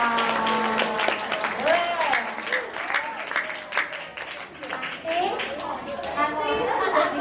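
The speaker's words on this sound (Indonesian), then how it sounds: "Tepuk tangan dulu dong buat Mas Dora" Students clap for Mas Dora at a school activity session, the applause steady and fairly close, with children's chatter and voices running over it throughout.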